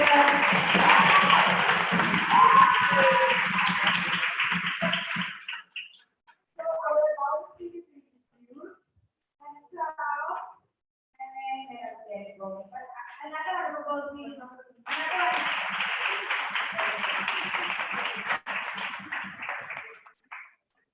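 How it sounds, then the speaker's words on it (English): Applause for the next speakers at a rape and gender-based violence event, loud clapping that breaks off for spoken words and then resumes. "give a round of applause to the next 5 speakers"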